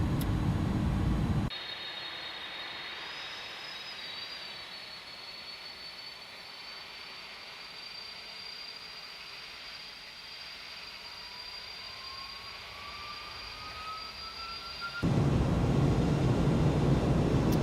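Airbus Beluga jet engines on approach in the X-Plane 11 flight simulator give a steady, even whine with a sustained high tone and a slowly rising pitch, heard alone at a constant moderate level.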